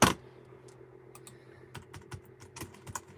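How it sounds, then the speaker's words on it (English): A computer keyboard is typed on in a home setting, with a burst of quick, close key taps arriving in irregular clusters over a faint steady hum. "My keyboard just decided to not want to work."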